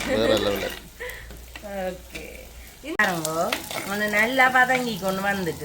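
Onions and spices sauté in a pan for a Jaffna-style fish curry, giving a steady sizzle that sits under continuous talking throughout.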